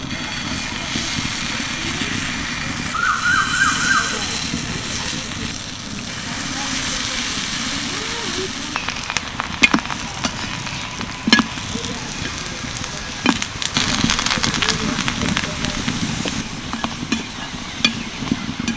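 Batter of moringa and thankuni leaves frying in hot oil, a dense, steady sizzle that runs throughout, with occasional sharper crackles and pops toward the end.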